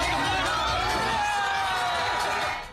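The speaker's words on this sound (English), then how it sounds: "Cheering crowds greeted 4 Israeli hostages Sunday after they returned home from the hospital." Large crowd cheering and shouting as freed Israeli hostages return home, a dense roar of voices and whoops, loud and sustained before fading at the end.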